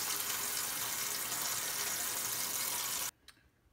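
Water from a tap pours steadily into a tamale steamer pot, a dense even rush that stops abruptly near the end, followed by a couple of faint clinks.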